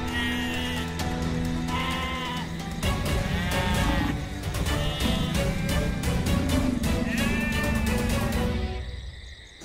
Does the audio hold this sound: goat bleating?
yes